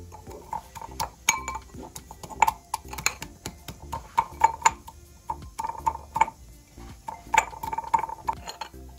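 Garlic being ground by hand in a home kitchen gives irregular knocks, clinks and scraping taps, close and moderately loud, in uneven bursts, with no talking.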